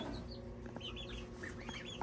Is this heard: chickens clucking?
yes